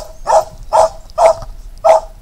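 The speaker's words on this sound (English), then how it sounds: "Pardon for the dog barking." A dog barks four times in a steady rhythm, each bark short and sharp, fairly close and loud against a quiet background.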